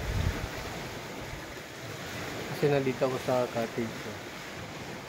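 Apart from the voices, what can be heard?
sea waves on a beach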